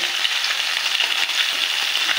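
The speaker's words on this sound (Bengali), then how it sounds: "এটাকে মাছটা ভাজা করি।" Fish frying in a pan at home, a loud, close, steady hiss of hot oil with fine crackling throughout, alone with no voices.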